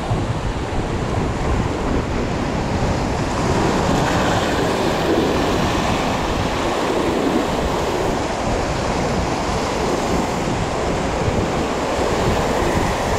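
Strong wind at a beach in Umkomaas, roaring continuously and buffeting the microphone loudly, mixed with the rumble of surf for the whole stretch.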